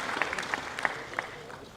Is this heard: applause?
yes